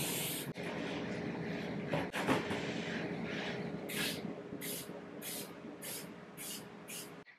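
Spray painting a DIY kitchen island indoors, with a steady hiss of spray running throughout, then several short spray bursts repeating near the end.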